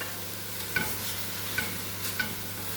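Onions brown in a pan for tomato bredie, a steady close sizzle broken by three sharp spoon taps or stirring clinks spaced about a second apart, with no voices.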